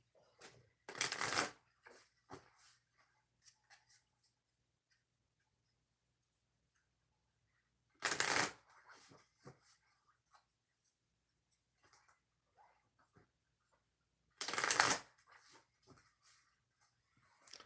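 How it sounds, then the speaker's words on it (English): Three separate bursts of cards being riffle-shuffled, spaced several seconds apart, with quiet handling sounds and soft taps between them. "Three shuffles for Pisces."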